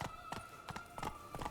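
Roach, the horse in The Witcher 3, gallops with rapid rhythmic hoofbeats, several quick thuds in a steady repeating pattern, close and moderately loud over a faint held tone.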